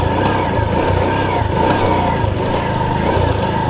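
A TVS Sport motorcycle engine runs steadily at close range while the bike is turned in a tight space, giving a continuous mid-pitched hum with slight revving swells.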